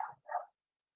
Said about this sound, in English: Do you hear my text message alarm? Sounds like a dog.